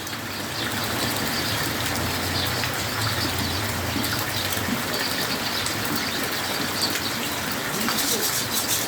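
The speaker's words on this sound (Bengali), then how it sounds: "এই যে দেখুন বৃষ্টি, মুষলধারে বৃষ্টি হয়েই চলেছে।" Heavy monsoon rain pours down in Bangladesh as a dense, continuous hiss and splatter, loud and steady throughout, with a faint voice in the background.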